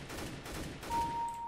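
Rapid gunfire in the CS:GO video game, a quick burst of overlapping shots at moderate loudness, with no voices.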